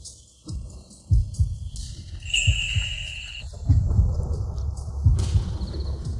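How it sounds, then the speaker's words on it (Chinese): A heartbeat sound effect in a dramatic scene: low, muffled thumps repeat in a steady pulse, with soft background tones. "谢先生心跳这么快"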